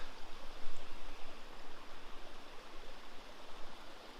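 A creek flowing steadily on a spring morning walk, an even close rushing burble of water that stays continuous throughout with no speech.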